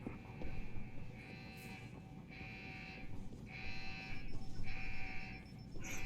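An alarm blares in Deus Ex: Human Revolution, four evenly spaced, steady electronic tones pulsing on and off over a low game-ambience hum, with no talk.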